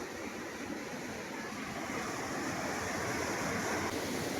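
Water rushes through a barrage on a river in the Dooars, a steady, dense roar of churning flow that holds even and close throughout, with a faint windy hiss over it.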